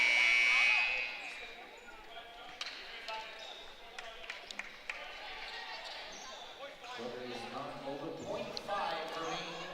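A loud, sustained electronic buzzer blares at the start of a women's college basketball game in a gym, then fades into crowd and court noise with scattered sneaker squeaks and ball sounds.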